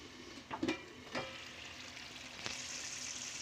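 Tomato thokku sizzles in separated oil in a pan, with a couple of sharp pops and clatters early on, then a steady, fairly quiet frying hiss; no talking.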